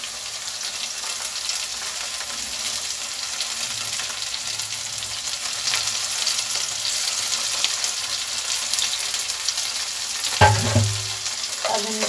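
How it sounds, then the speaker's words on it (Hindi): Onions and split green moong dal with skins fry in a pan for radish leaf sabzi. A steady, close sizzle runs throughout, with a louder burst of sizzling and stirring near the end. "देखिए प्याज भून गई है। अब हम इसमें मूंग की दाल डालेंगे छिलके वाली।"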